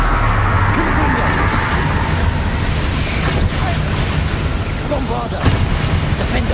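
Fiery Confringo spell blasts erupt amid the thick, continuous din of Hogwarts Legacy combat, with booming bursts and crackling impacts layered over a constant low rumble, and an in-game voice calling out briefly.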